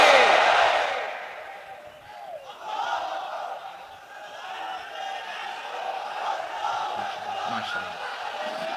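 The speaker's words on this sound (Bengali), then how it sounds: "তাকবীর পড়ুন, লিল্লাহি তাকবীর।" A large gathering at a Bangla Islamic sermon shouts takbir in unison, a loud massed roar at the start that fades and then lingers as a sustained crowd murmur and chant further back.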